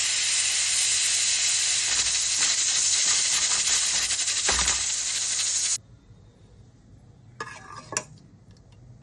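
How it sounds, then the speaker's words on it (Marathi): A pressure cooker cooking urad dal gives a long loud steady hiss that cuts off abruptly, followed by quieter kitchen sounds and a brief burst of steam. "आता कुकरमध्ये याच्या 5 शिट्ट्या करून घेऊया आपण"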